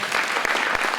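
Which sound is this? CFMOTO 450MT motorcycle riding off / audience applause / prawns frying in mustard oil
audience applause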